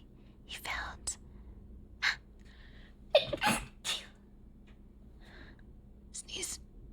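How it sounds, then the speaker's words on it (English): A single sneeze bursts out amid soft whispery breaths and quiet rustling, followed by a few faint hushed sounds. "I tried not to sneeze loud."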